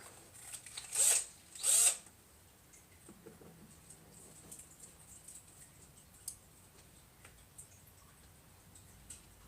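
Two short, loud bursts of a power drill driving a screw, followed by faint ticks and handling noises in a quiet room.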